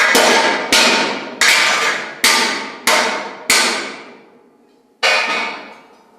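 An ironworker's blacksmith hammer strikes metal about seven times in a loud, close, fairly even rhythm, each blow ringing out and decaying before the next, with a longer pause before the final strike.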